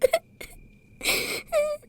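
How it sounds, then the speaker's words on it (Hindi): A girl cries in short wailing sobs, a few brief whimpers followed by two louder drawn-out wails, close and alone without talk. "देख नहीं रही वो कितना रो रही है।"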